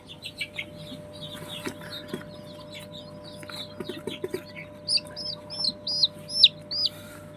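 Young chicks being moved by hand into a brooder with two ducks give repeated high peeping chirps, sparse at first, then louder and more insistent toward the end, with faint handling bumps underneath.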